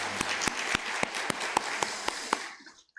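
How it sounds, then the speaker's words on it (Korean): A church congregation claps in unison, a steady rhythmic run of about ten loud hand claps over a murmur of applause, fading out at the end. "우리에게 귀한 가정을 주신 하나님께 우리 감사와 찬양의 박수를 올려드리겠습니다"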